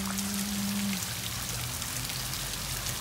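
Steady rain falls outdoors, a constant soft hiss of drops on surfaces with a low hum in the first second; no one speaks.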